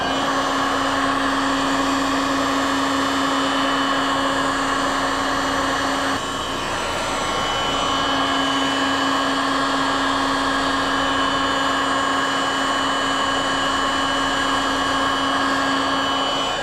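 A heat gun blowing hot air onto the back of a bowed upper door enclosure for an Rmax, a loud steady whooshing drone with a constant whine that briefly dips near the middle, no talk.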